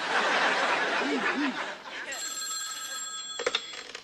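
A telephone bell rings in a studio sitcom scene, a bright trilling burst after a voice and a chuckle, followed by a few clattering knocks.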